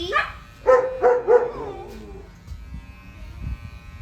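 An electric clipper hums faintly and steadily while a dog's hair is trimmed at a grooming shop. The dog gives several short, close yips and whines near the start, followed by soft background noise.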